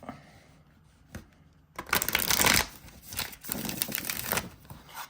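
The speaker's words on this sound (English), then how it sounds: "it's just a beautiful shuffle" A deck of Awaken Tarot cards is shuffled by hand in a cramped space under a camera. Soft rustling leads into a louder burst of riffling cards, then further bouts of crisp, close shuffling.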